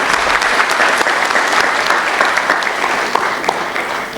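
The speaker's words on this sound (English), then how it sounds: "So let's clap for that great hope." An audience at a nursing simulation conference in India claps loudly and continuously, a dense, even wash of applause that runs throughout.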